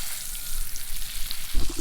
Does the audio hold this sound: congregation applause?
no